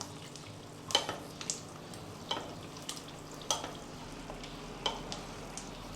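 Eggs frying in a pan for a classic American breakfast, a soft steady sizzle with scattered pops and crackles spread through the clip, close and fairly quiet, with no talking.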